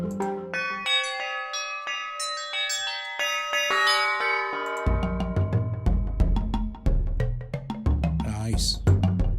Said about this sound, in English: That's Theremin bells, that one.